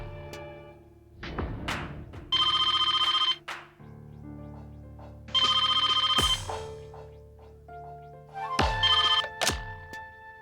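A telephone rings in three loud electronic bursts, each about a second long, during a suspense drama scene, with thuds and other tones between the rings.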